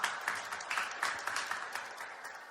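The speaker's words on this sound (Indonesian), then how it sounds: "Yang mau tepuk tangan yang meriah bagi kita." A church congregation applauds a pastor's sermon with moderate, scattered clapping that pulses in irregular bursts and slowly fades, heard from a short distance with no speech over it.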